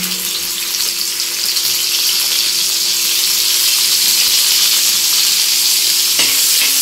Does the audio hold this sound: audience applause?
no